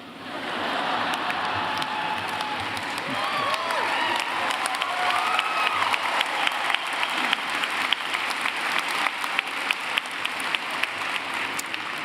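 A commencement audience applauds steadily, with light cheers and scattered shouts mixed into the dense, sustained clapping of a large crowd.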